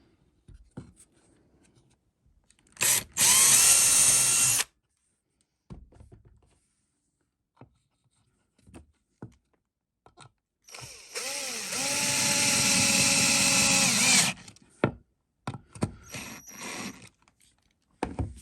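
Power drill boring a pilot hole in wood during a handmade woodworking project, two loud sustained whirring bursts, the second longer, separated by scattered clicks and handling knocks, close with no speech.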